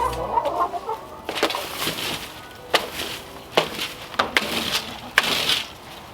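Chickens cluck inside a chicken house, a run of close, irregular clucks and short squawks with scuffling and knocking between them.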